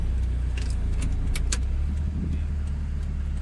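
A 1995 Nissan Sentra Super Saloon with a faulty speedometer rolls along a road in traffic during a test drive, giving a steady low engine hum from inside the cabin with light rattling and jingling keys over it.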